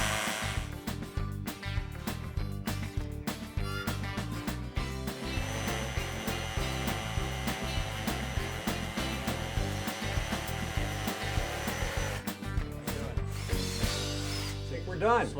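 Masonry drill grinding steadily into concrete, a continuous harsh whir with rattling texture, close up and loud throughout.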